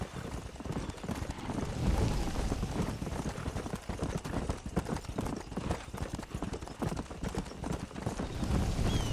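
A horse gallops in Red Dead Redemption, its hooves drumming in a fast, steady clip-clop rhythm that runs close and continuous throughout.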